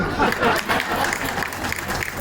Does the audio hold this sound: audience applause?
yes